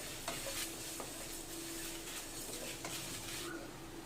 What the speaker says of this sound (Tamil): இது கூடவே சோம்பு, பட்டை, லவங்கம், சீரகம், மிளகு இதெல்லாம் ஒன்றா போட்டு அதோட மிக்ஸ் பண்ணிக்கலாங்க